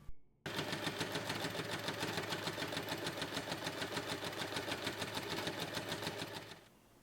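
A sewing machine top stitches along the edge of a small fabric wallet keychain, whirring in one steady, rhythmic run for about six seconds before winding down.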